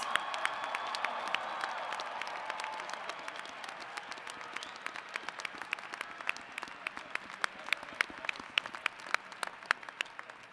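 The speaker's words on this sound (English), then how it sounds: "let's now have one more round of applause for all of today's graduates" Sustained applause for graduates at the UW–Madison winter commencement, a large crowd clapping steadily for about ten seconds, with individual sharp claps standing out and the sound slowly tapering off.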